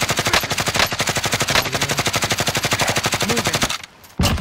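Rapid sustained automatic gunfire from a Call of Duty: Warzone battle, loud and close, rattling in a steady stream of bursts before a brief pause and a final resumed burst.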